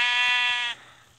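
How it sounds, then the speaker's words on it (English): A sheep bleats in a video game town, one sustained wavering call that is loud and close, then cuts off into quiet background game ambience. "Oh, another sheep?"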